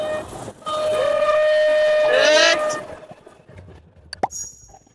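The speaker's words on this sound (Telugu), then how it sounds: "మొత్తం ట్రైన్ శబ్దంతోనే" A three-car toy train ride at a fair sounds a loud sustained whistle-like horn for about two seconds, followed by quieter clatter and a few sharp clicks amid fairground background noise.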